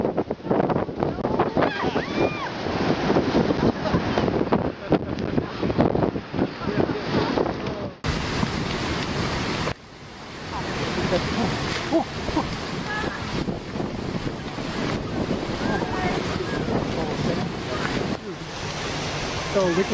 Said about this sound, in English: you should never underestimate the power of the ocean